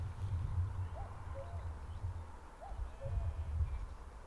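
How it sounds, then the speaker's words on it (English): A cuckoo calls in the Lake District evening near a shore, its soft two-note cries repeating a few times at a distance over low outdoor rumble. "Listen to that cuckoo."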